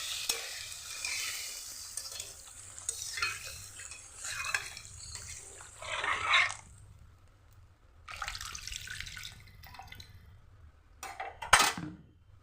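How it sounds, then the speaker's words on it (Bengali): Water poured from a vessel into a pot of potatoes browned in spices for a Bengali fish and potato curry, several splashing, hissing pours separated by quiet pauses, with a clatter near the end and no voices. "এবার আমি এর ভিতরে পরিমাণ মতন জল দিয়ে দেবো।"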